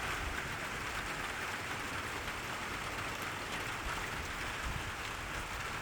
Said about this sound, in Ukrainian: Іде перший дощ.